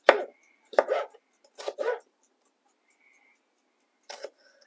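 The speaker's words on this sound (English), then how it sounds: "let's chop that last big piece up" A knife chops a large piece of food on a chopping board while making gaucho pie: about five sharp, close chopping knocks in uneven bursts, with quiet pauses between and no talking.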